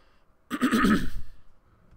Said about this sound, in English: Sorry, I'm clearing my throat.